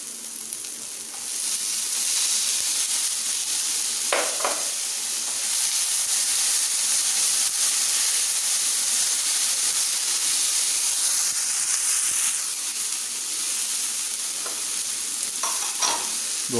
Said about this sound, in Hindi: थोड़ा सा इनको फ्राई कर लेते हैं। टमाटर शामिल करते हैं